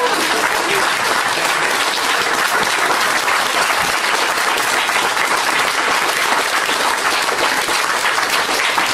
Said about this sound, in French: On applaudit le 8e.